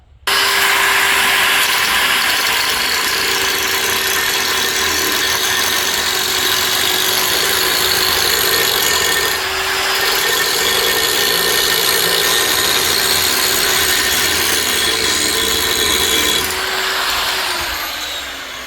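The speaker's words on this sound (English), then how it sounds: "And now I'll grind around the edge." Grinder sharpening around the front edges of a Power King stump grinder bit on the machine; a loud, continuous high whine holds steady with slight dips in pitch as it moves along the edge, with no voices.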